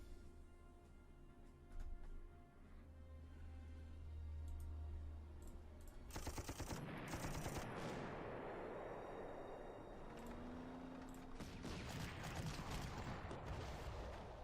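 Artillery barrage in the Panzer Corps strategy game, Stalingrad docks battle: after a quiet stretch, a dense burst of booming, crackling blasts erupts and rumbles on loudly for several seconds.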